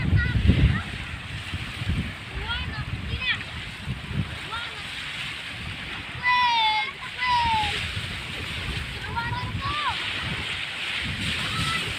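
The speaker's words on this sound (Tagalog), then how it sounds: "Mga bata naliligo. Taib ngayon, ano, malaki tubig." Children splash and play in high-tide water on a morning beach, with intermittent splashes and sloshing over a steady wash of water, while birds chirp and voices call out nearby.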